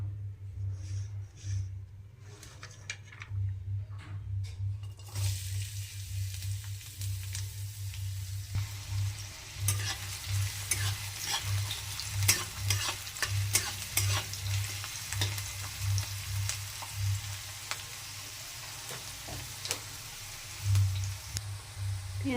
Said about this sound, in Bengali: কড়ার মধ্যে তেল দিয়ে দিয়েছি। এবার পেঁয়াজ কুচিগুলো দিয়ে দেবো এর মধ্যে